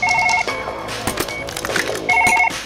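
A telephone rings in the video game Surgeon Simulator, a repeating electronic bell pattern in short bursts broken by clattering and thumping game sounds.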